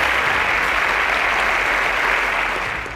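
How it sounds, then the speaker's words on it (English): An audience at a quiz show semi-final claps for a contestant, a loud, dense and even burst of applause that holds steady and then begins to fade. "A round of applause for Oyelude."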